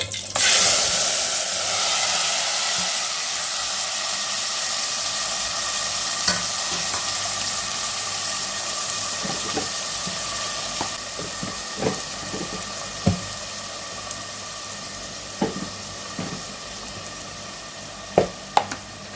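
Onions and tomatoes tossed into a pan of frying chana dal, a loud hiss at the start settling into a steady sizzle, with sharp scrapes and taps of stirring near the end and no talking.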